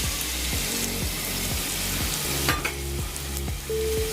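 Finely sliced onion frying in oil for a Mangalorean squid sukka, a dense close sizzle with regular scraping stirs and a brief clink.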